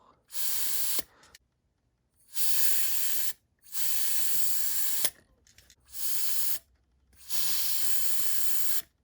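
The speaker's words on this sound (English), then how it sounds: "Definitely want to cool down the motor by using the contact cleaner." Contact cleaner sprayed onto a racer motor during break-in, in four long steady hissing bursts of a second or more each with short silent gaps between, close and loud with no talking.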